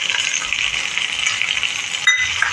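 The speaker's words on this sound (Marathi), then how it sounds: "चांगलं परतून घ्यायचं आता त्यावर मी खोबरं घालणार आहे" Dry coconut roasting in a pan gives a steady, close sizzle and hiss with a faint metallic clink near the end.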